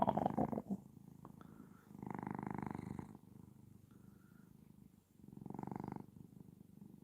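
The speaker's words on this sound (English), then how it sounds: "Can y'all hear her purr?" A pet cat purrs close by, a low rhythmic rumble rising and falling in slow breath cycles, with a brief handling noise at the start and no talking.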